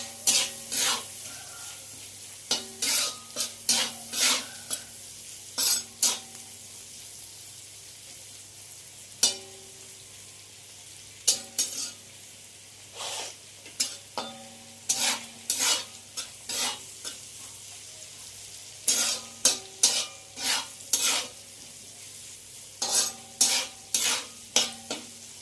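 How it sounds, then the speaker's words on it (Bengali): Utensils scrape and clink in a frying pan as vegetables seasoned with salt and pepper are stirred over low sizzling, in irregular bursts of strokes separated by brief pauses. "দিয়ে আবারও আমি ভালো করে একবার সবজির সাথে মিশিয়ে নেব নুন আর গোলমরিচ গুঁড়োটা"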